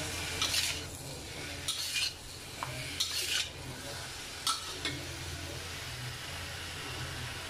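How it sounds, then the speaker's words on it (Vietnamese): Mushrooms being stir-fried in a pan for a vegetarian noodle soup, with light utensil scrapes and clinks against the pan over a steady low sizzle, fairly quiet and close. "Để nấm vô xào sơ sơ là được rồi."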